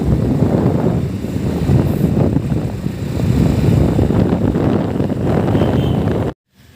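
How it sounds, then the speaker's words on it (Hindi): A cool wind blows across an open outdoor ground, a steady, fairly loud rushing buffet on the microphone that continues for several seconds before cutting off abruptly. "ये जो ठंडी ठंडी सी हवा चलती है ना"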